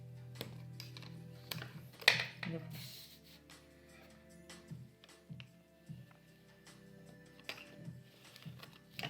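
Cardboard being pressed flat along a fold for a VR viewer, giving a series of soft, close taps and crinkles spread through the clip while a person talks over them.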